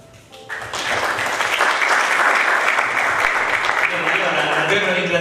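A theatre audience bursts into applause after a performance, clapping rising sharply from quiet and then sustaining a full, dense ovation to the end.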